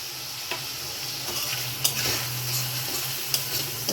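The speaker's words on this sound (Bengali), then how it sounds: "মশলাটা একটু জল দিয়ে ভালোভাবে কষিয়ে নেবো" Spice paste with turmeric, coriander powder and meat masala sautéing for an egg curry, soft sizzling under a string of spatula scrapes and taps against the pan.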